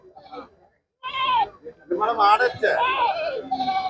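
A goat bleats at a goat market in short wavering cries, starting faint and then growing louder and closer, with several bleats in quick succession and no talking.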